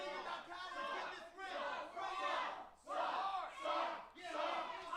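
A wrestling arena crowd roars and shouts in loud surging waves, cheers rising and falling over about five seconds with no clear single voice.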